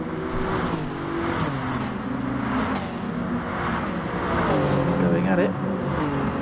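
Toyota and Hyundai GT2 race cars in the GT Sport video game race at Sardegna, their engines droning loudly and continuously while a commentator talks over them.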